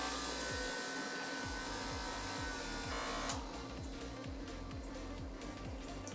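A Stylpro electric makeup brush spinner whirs steadily as it spins a brush dry after cleaning off foundation, with a continuous motor hum and a rhythmic low pulsing, the pitch shifting slightly partway through.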